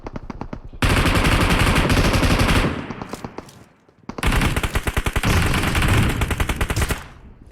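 Rapid automatic gunfire from a combat video game, loud sustained bursts with a short lull in the middle before another long burst of shots.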